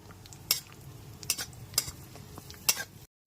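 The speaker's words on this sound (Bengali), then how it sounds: "ক্রমাগত নাড়াচাড়া করে কাজু বাদাম আর কিশমিশটা হালকা করে ভেজে নেবো" Cashews and raisins frying gently in ghee for a sweet vermicelli dish, with a soft low sizzle under four distinct scraping clinks of a spatula stirring against the pan, spaced unevenly, before a brief silence at the end.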